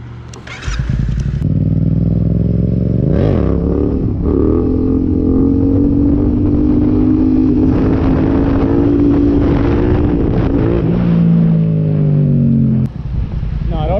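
Street bike motorcycle ride: the engine starts, revs, and then holds a steady drone as it pulls away, with its pitch rising and falling through gear changes. The engine is loud and close throughout, with no voices over it.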